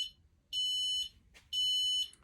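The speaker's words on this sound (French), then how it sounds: "Tu as quelques bips sonores qui se mettent en place avant l'alarme principale." Squidd Home alarm unit sounding two steady high-pitched warning beeps, each about half a second long, close and loud, with a short gap between them, before the main alarm.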